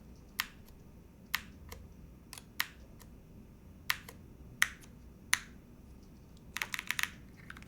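Crisp, clacky keystrokes on a Keycult Rev 2 TKL keyboard with plum U4TX switches, spaced single presses giving way to a quick flurry near the end, close and isolated.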